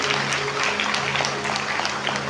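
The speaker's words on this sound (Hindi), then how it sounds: "जोरदार ताली बजाओ अपने लिए" An audience claps loudly and steadily throughout, a dense, sustained round of applause from a crowd.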